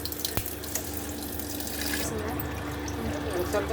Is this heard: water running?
yes